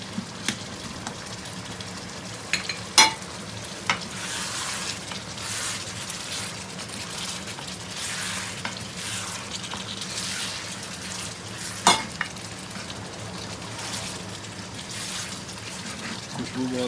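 Chicken sizzles steadily as it fries in oil in a pan for a chicken chana daal, with occasional sharp clicks of stirring against the pan; the frying hiss runs continuously at moderate level.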